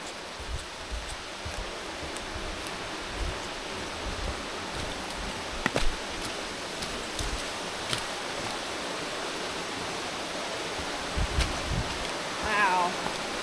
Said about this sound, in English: I can certainly hear the first waterfall. Sounds like it's flowing very,